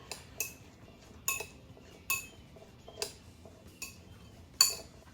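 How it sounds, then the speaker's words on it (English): A spoon stirs raisins soaked in freshly squeezed orange juice in a bowl, giving a series of light, faint clinks and taps against the dish at irregular intervals. "Give this a quick stir."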